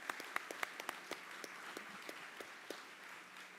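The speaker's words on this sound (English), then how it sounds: "Can we have one final round of applause for that program?" Sparse, faint applause from a county audience, a handful of separate claps spaced out and fading over a few seconds, heard from a distance.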